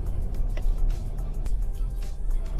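An AITO M5 accelerates with engine sound effects switched off, leaving a very quiet cabin where only a low, steady road and drivetrain rumble stays present.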